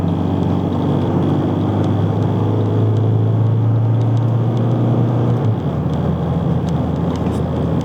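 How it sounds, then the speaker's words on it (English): An Isuzu D-Max AT35 bakkie's engine drones loudly from inside the cabin at full throttle, a steady rising rumble and whir that drops off near the end. "I'm gonna put my foot flat down."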